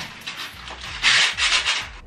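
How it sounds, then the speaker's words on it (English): A sanding block is rubbed by hand across an interior wall in a series of scratchy strokes, alone and close, with the strokes growing louder and more forceful in the second half. "this is why you need a sanding block"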